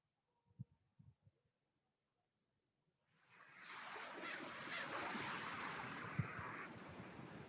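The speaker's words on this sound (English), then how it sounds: "I want you to hear the ocean" Ocean waves wash onto a beach, a broad rushing surge that swells in after a few faint knocks and holds steady and fairly loud.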